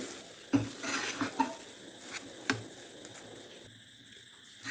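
A peda mixture is stirred into caramel in a kadhai, producing a few sharp spoon clinks and scrapes against the metal over a quiet background, with a faint simmer between strikes.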